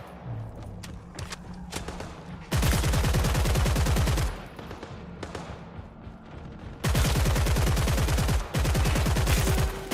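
Gunfire in a dark shooter video game, long loud bursts of rapid automatic fire in two main stretches, separated by quieter gaps with scattered single shots.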